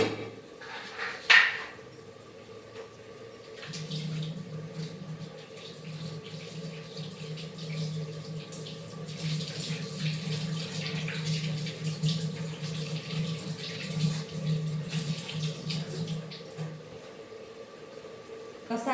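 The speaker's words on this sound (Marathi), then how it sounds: "साबणाने हात धुवून घेते" Hands being washed with soap under a running kitchen tap, a steady moderate stream of water splashing into a sink for about thirteen seconds, preceded by a sharp knock and faint background noise.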